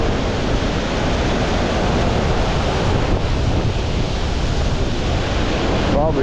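A waterfall roars close by with spray blowing around, a steady, dense rush of water noise that never lets up, mixed with wind buffeting the microphone.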